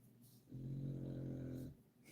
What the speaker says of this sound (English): The dog's snoring like a good one.